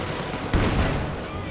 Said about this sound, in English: Grenadiers sniper tearing into the gun crews